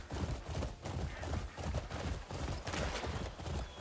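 Horse hooves clip-clopping in a video game, a steady rapid trotting rhythm of close, soft thuds continuing throughout, with nothing else prominent.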